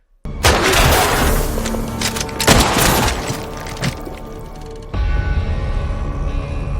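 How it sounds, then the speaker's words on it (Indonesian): Loud, dense gunfire in a film scene as shots are fired at a vehicle's tire, a continuous roar of blasts and shattering impacts with a heavy boom near the middle, then a sudden cut to a steadier rumble. "dia sempat menembak ban kendaraan Yegor juga"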